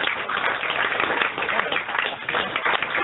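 Applause and clapping from a bar audience after a comedic lecture evening, a dense steady patter of many hands filling the room, heard fairly close.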